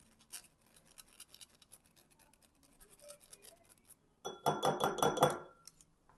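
Matcha powder being sifted through a fine metal sieve: a quiet stretch of soft scraping gives way to a loud, rapid burst of rhythmic metallic tapping and rattling close up for the last two seconds.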